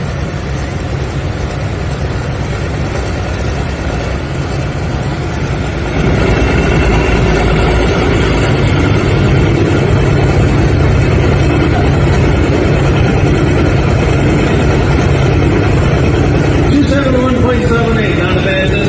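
A tractor engine roars in a pulling competition at Highland, Wisconsin, a loud sustained low rumble that grows heavier partway through and keeps straining steadily, with voices audible over it.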